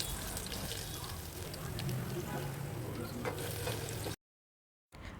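Garlic and mustard seeds fry in oil in a steel pan, giving a steady close crackling sizzle for about four seconds before a brief silence.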